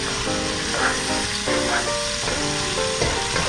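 Onion frying in a pan as the base for German cabbage, a steady close sizzle running throughout with faint clinks of stirring and no talk.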